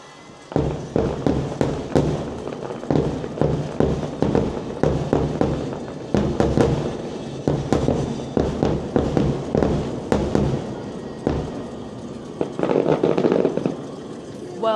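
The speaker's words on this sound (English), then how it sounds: "that view for the fireworks was incredible as we expected" Fireworks display over Disney's Contemporary Resort, a rapid series of loud booming bursts and crackles in irregular clusters, with a dense rolling barrage near the end.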